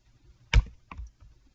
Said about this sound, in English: I hit the tab button on my keyboard